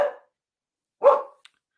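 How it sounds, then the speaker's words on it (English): Two sharp indoor dog barks about a second apart, close and fairly loud, followed by a tiny faint yip, with silence between. "That's my emergency dog that tells me someone's here."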